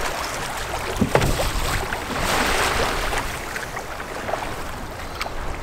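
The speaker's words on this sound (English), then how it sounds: "the waves have picked up a lot out here" Small boat pounding through big waves on Lake Ontario, with a steady rushing wash of water and wind, broken by hull slaps and splashes, close and loud.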